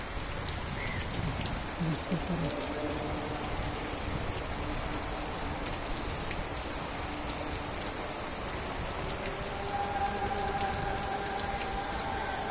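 Rain falls steadily on a pigeon loft, a constant soft hiss of drops on surfaces, with faint scattered noises and a brief tone underneath.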